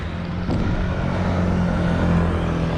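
A car goes by a cyclist riding uphill on the road, a steady low engine rumble and tyre roar that swells slightly and holds close throughout.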